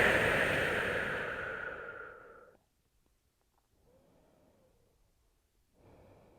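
A deep exhale during a yoga rest flows out as a long, close breath that gradually fades, followed by quiet stillness, then a softer breath and the start of another.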